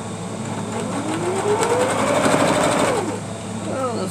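A sewing machine runs steadily while stitching a quilt pillow, its close, continuous motor hum and rapid needle chatter rising slightly in pitch mid-run, with a voice speaking faintly underneath.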